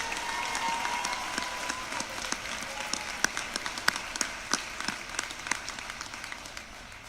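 A graduation ceremony audience applauds scholarship recipients, scattered clapping in a large hall that swells with a few sharp close claps, then thins and fades toward the end.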